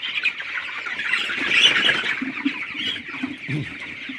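A flock of sick poultry-farm chickens clucking and squawking together, dense and continuous, fairly close.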